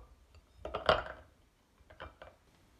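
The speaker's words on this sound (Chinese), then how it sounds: "准备一个盘子，把黑豆从碗中取出来。" Frozen black beans are knocked out of a bowl onto a plate: a sharp clatter of hard beans against ceramic, then a softer second clink after a pause, quiet and close.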